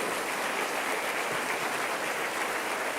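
A church congregation applauding together, a dense, even wash of clapping that holds steady and fairly loud for a few seconds without voices.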